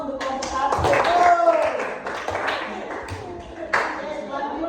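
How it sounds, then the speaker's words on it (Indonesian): A group claps in applause for the first team at a teacher training session, a continuous patter heard under and between spoken voices. "berikan aplaus untuk kelompok 1"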